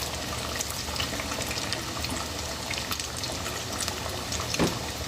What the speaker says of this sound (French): J'ai choisi ma poêle exprès parce que je ne voulais pas utiliser trop d'huile pour la friture